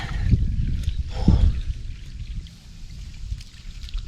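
Water flows steadily from a drainage pipe down onto a bamboo fish trap set in a stream, a continuous close splashing and trickling with a brief surge, no speech over it.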